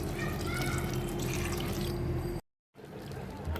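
Water is poured into a pot of chicken haleem as a steady, fairly quiet watery rush close by, which breaks off abruptly into a short silence and then resumes more softly.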